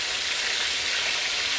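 Food frying in olive oil for split pea soup, a steady close sizzle and crackle filling the pan without pause.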